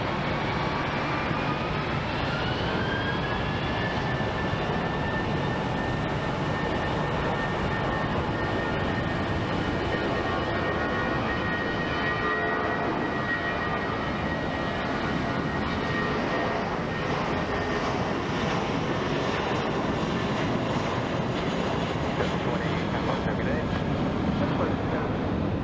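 A jet airliner rolling for takeoff on runway 25 right at Phoenix Sky Harbor, a loud, steady engine roar with a rising whine throughout, heard from nearby with radio chatter underneath.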